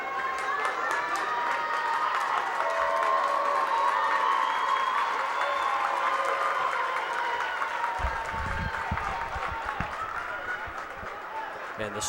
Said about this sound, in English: the Spartan fans trying to cheer on their team